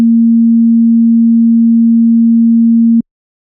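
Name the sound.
pure sine wave tone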